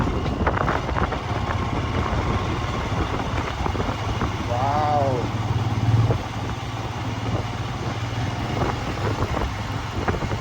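A motorcycle runs along a high mountain road near Turtuk village, its engine a steady low drone under gusty wind, swelling briefly louder mid-way before settling back.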